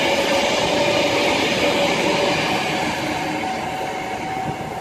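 Train passing through Rugeley Trent Valley station on the West Coast Main Line, a loud, steady rumble of wheels and carriages with a faint high ringing tone running through it, easing slightly toward the end.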